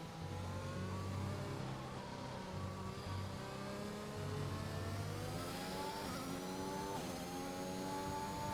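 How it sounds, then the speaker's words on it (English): A Formula 1 car engine in the F1 2021 racing game revs and climbs through rising whining pitches, then drops and surges again, loud and continuous with no talking. "look how unstable the car is."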